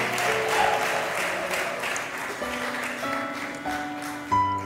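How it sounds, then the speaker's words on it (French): Audience applause for a talent show candidate at a prize presentation, continuous clapping under steady background music, with a brief louder burst near the end. "Est-ce qu'on peut applaudir pour Josué?"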